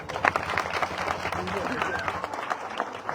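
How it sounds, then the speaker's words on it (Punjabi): An audience at a Punjabi election campaign gathering in ward 8 of Tarn Taran claps in a dense burst of applause, with a speaking voice heard over it. "ਜੇ ਮੇਰੀ ਗੱਲ ਸੱਚੀ ਹੈ ਤਾਂ ਤਾੜੀ ਮਾਰ ਦਿਆ ਕਰੋ"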